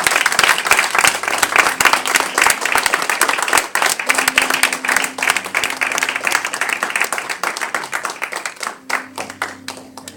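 A church congregation at a Paris service applauds and cheers in praise of the Lord, with dense, sustained clapping from many hands and a few raised voices throughout.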